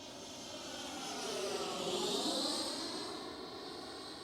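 FMS Avanti S 90mm EDF RC jet flying past, a steady ducted-fan whine that swells louder mid-pass and fades again, heard alone at moderate distance.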